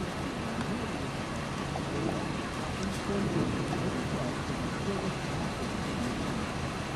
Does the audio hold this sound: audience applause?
no